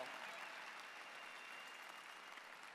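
An audience applauds at a cancer charity fundraising celebration, sustained clapping from a crowd that stays even and fairly distant, with no speech on top.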